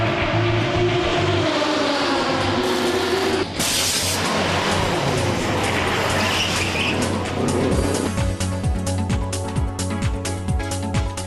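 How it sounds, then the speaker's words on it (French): An Audi R15 TDI race car at the Le Mans 24 Hours roars past at speed, its loud engine note shifting and rising, followed by more rapid pulsing engine bursts up close. "une voiture de la marque aux 4 anneaux s'élance vers le podium"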